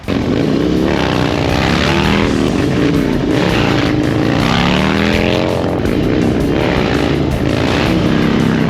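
Harley-Davidson FXDX motorcycle with carburetors and flat tappet engine running straight pipes, loud and close, revving up and down repeatedly in rising and falling surges with a raw, booming exhaust.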